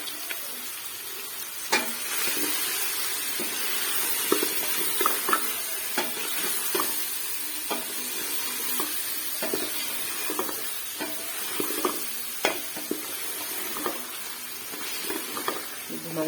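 Spices, tomatoes and mutton sizzle and hiss in a pan while a spoon stirs and scrapes at intervals, a steady frying bed punctuated by sharp clinks, with a voice talking over it.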